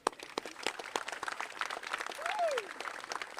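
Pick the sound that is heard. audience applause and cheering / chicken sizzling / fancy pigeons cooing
audience applause and cheering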